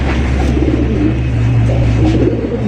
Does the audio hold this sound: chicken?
no